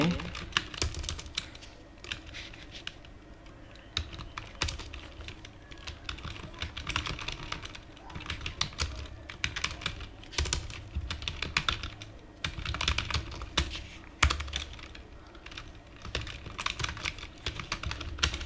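Rapid, uneven keystrokes clatter on a computer keyboard for the whole stretch while text is typed onto an image with Photoshop's type tool, steady and close with only brief gaps.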